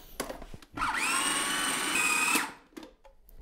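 A blender blitzes burger mixture with Boursin cheese in one steady, loud whirring run of about a second and a half, with brief clatter before and after.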